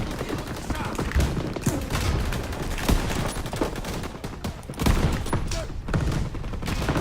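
Dense gunfire rolls through a Call of Duty WWII campaign battle in the Ardennes, with rapid automatic bursts and shots layered over a loud game soundscape while a player talks.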